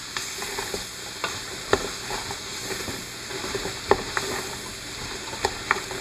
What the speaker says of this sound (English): Give that a stir all in.